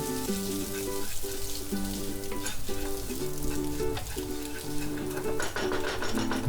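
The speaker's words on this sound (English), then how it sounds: "in the same pan add crushed boiled eggs and fry it for about 2 minutes" Crushed boiled eggs fry in oil in a pan, producing a loud, dense, continuous sizzle and crackle, with a steady mechanical hum running underneath throughout.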